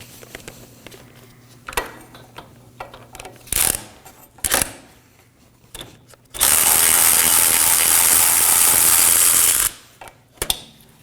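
A ratchet removing a bolt from a 2013-2019 Nissan Sentra rear wheel bearing and hub assembly clicks in short bursts, then runs in one long continuous buzzing stretch before a few final clicks, close and loud.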